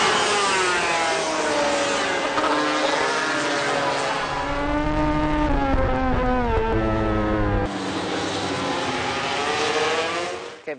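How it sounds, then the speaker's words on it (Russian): A roaring crowd of about 100 motorcycle engines revving hard together on a track, pitches rising and falling in overlapping waves, loud and sustained. "Около 100 мотоциклов, которые ехали по трассе, гребут, газуют, издавая при этом звук"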